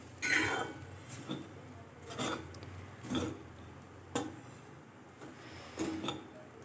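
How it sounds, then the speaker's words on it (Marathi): Steamed grated potato being mixed with crushed peanuts in a pan, heard as soft, irregular scraping and clinking of a spoon against the vessel, a few quiet strokes spaced about a second apart. "यामध्ये मी हा शेंगदाण्याचा कूट टाकते मिक्स करून घ्यायचा आहे"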